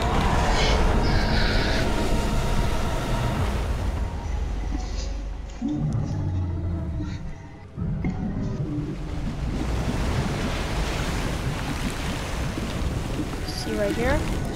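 A character plunges into water in a monster versus mech event in a video game, a continuous rushing splash and surf-like wash that briefly dips and then carries on, loud and close.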